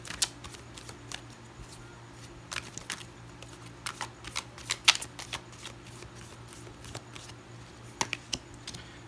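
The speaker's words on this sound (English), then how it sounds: "we'll get one card from the archetype oracle cards" Oracle cards being shuffled by hand for a daily draw, a series of soft close slaps and flicks with irregular rhythm over a quiet background hum.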